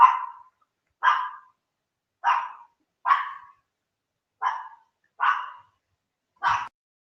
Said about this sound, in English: Just sorting out the dog barking